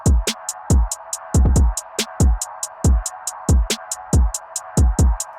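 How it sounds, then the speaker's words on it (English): Bounce Back preset from the Native Instruments Hypha plugin: a sustained washy pad under a steady run of bouncing plucked hits with falling low thumps, repeating in a quick regular rhythm, loud and with no voices. "But I found one that's called Bounce Back, and it sounds like this."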